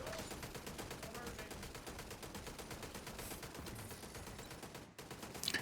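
Automated turret in a video game firing a steady stream of rapid, rhythmic shots at enemies, continuous and fairly loud, with a brief dropout near the end before the fire resumes.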